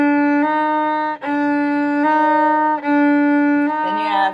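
A violin plays a short phrase from the Shark Symphony lesson, a few sustained slurred notes with clear steady tone and brief dips between bow strokes, solo and close.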